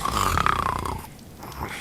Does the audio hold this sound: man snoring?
yes